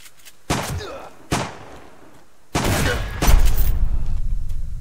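Gunfire in the survival game Subsistence: several sharp, loud broadband shots, the first two isolated about a second apart, then a heavier sustained burst of booming blasts that continues to the end.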